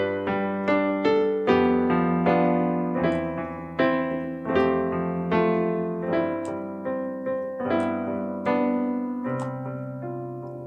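A slow hymn melody of sustained tones, each note struck and ringing into the next, played alone with no voices; a tritone interval gradually resolves by the end.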